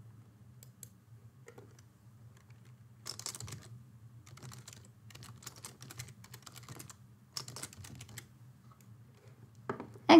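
Soft, close keystrokes on a computer keyboard as a short file name is typed, coming in irregular bursts of clicks with brief pauses over a quiet room.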